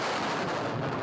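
A BM-21 Grad multiple rocket launcher fires, a dense, continuous roaring rush of launches filling the whole moment at a steady, heavy level.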